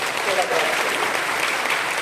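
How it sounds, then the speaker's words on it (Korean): A Korean church congregation gives a round of applause for the pastor's wife during a sermon, thick continuous clapping that stays loud throughout, with a voice faintly present beneath it. "박수 한번 합시다"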